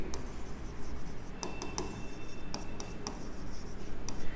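Chalk or marker scratches out accounting entries on a classroom board in quick, close strokes and taps, a steady run of dry writing sounds with no talk over it.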